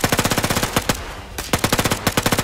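Rapid automatic gunfire rattles through a zombie-survival video game, loud close bursts of evenly spaced shots broken by one short pause and then resuming just as fast.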